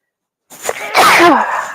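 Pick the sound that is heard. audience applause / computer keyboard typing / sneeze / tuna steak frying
sneeze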